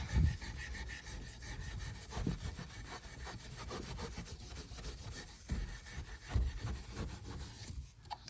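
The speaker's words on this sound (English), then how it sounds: "if you just take this and gently rub, all of that will disappear and become nice and shiny again" Steady, close rubbing strokes as grime is worked off the body of a 1960 Cadillac Miller Meteor hearse, a continuous scrubbing texture with a few slightly louder pushes.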